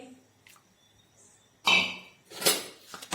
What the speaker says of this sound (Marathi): ते पळीने व्यवस्थित मिक्स होण्यासाठी हलवत आहे